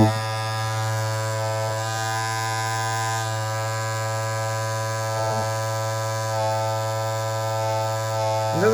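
A cordless Andis Masters hair clipper runs steadily and loudly with a strong, even electric buzz throughout, a few faint handling knocks and no speech.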